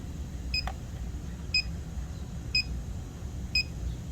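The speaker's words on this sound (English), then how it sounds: "Oh, we better let this leak detector calm down." A refrigerant leak detector, used while repairing an R-290 cooler, beeps four times at an even one-second rhythm, with short sharp chirps over a low steady hum.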